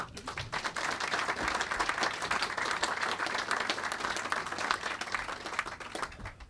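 An audience at Politics and Prose bookshop claps warmly and steadily for the arrival of lecturer Niall Ferguson, a dense sustained round of applause at moderate volume.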